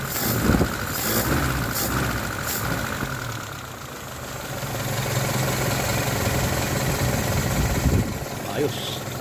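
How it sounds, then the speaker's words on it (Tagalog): A Toyota 3A-U car engine under restoration idles steadily at close range, a low continuous rumble with brief knocks and clatter near the start and again near the end. "Nagpapandar kami ng makina."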